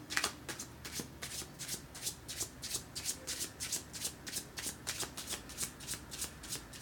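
A deck of yoga cards being shuffled and handled, giving a steady run of crisp, rhythmic riffling bursts at close range with no talking.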